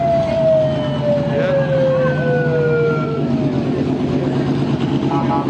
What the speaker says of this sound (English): There's our fire engine.